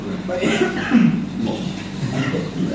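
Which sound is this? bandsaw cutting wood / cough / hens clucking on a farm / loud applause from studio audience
cough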